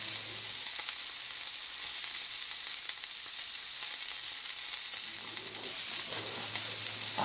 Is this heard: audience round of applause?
no